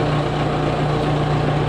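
A Case tractor engine runs steadily just after starting, a loud, even low rumble with no break or change in pace.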